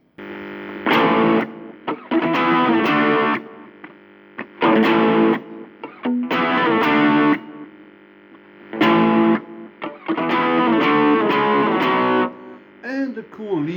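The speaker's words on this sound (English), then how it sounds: "It's also got a very nice power chord section." An electric guitar plays a distorted power chord section from a rock song, heard as a loud, chugging run of repeated chord bursts with short pauses between them, played alone.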